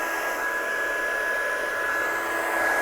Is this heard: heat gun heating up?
yes